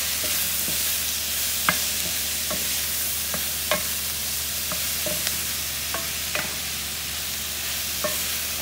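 Veggie lo mein pasta frying in grapeseed and sesame oil in a pan, a steady loud sizzle broken by sharp scraping clicks of stirring at irregular intervals, with no voices.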